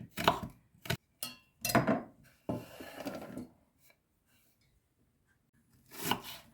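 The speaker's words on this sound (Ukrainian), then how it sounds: "Морку нарізаю такими скибочками дрібненькими." A knife slices a carrot into small rounds on a board, a quick run of sharp close chops followed by a pause, then one more burst of cutting.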